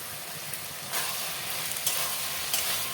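Fried vegetables, ridge gourd and slit green chillies sizzling in a pan with turmeric and ginger paste: a steady close hiss and crackle, brightening when stirred, with a few soft clinks.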